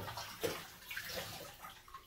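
Lukewarm bath water runs from a tap over dogs in a tub, a steady close splashing stream with a few small bumps and sloshes.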